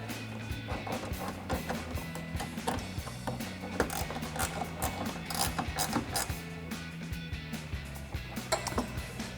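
A 10 mm ratcheting wrench tightens a headlight mounting bolt on a 2014-2015 Chevrolet Silverado 1500, giving close, rapid ratchet clicks and metallic ticking that repeat steadily throughout.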